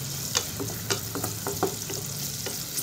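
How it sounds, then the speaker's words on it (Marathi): Half an onion, ginger and garlic frying in oil in a pressure cooker: a continuous close sizzle punctuated by soft stirring scrapes and taps. "एक मीडियम आकाराचा अर्धा कांदा, थोडंसं अद्रक आणि लसण आपल्याला त्याच्यामध्ये 1 मिनिट आपल्याला फ्राय करून घ्यायचे"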